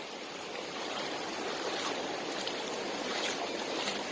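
Waves rolling onto a wide beach in Brittany, heard as a constant broad wash of surf noise, fairly soft and steady throughout with no voices.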